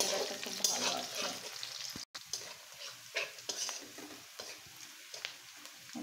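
Whole spices and cumin seeds frying in hot oil for a beef curry, a steady close sizzle with scattered pops and stirring scrapes, with a brief dropout midway.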